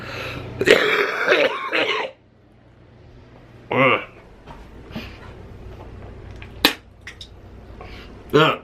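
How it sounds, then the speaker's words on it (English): A few short, wet coughs bringing up mucus, with throat-clearing grunts in separate bursts and quiet pauses between, close to the listener. "that little cough that I did right then just got up that much mucus"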